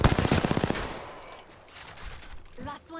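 A rapid string of Spitfire light machine gun shots in Apex Legends rattles out in the first second, crisp and fairly close, then gives way to quieter game ambience with a brief voice near the end.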